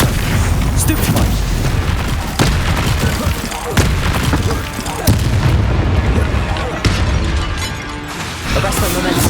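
Spell blasts and explosions from Hogwarts Legacy combat, a dense, continuous barrage of booms and crashing impacts at loud level with no pause.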